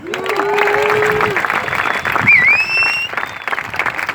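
A crowd at the Eddie Aikau big-wave surf contest at Waimea Bay, Hawaii, claps and cheers loudly, with whistles cutting through the steady applause.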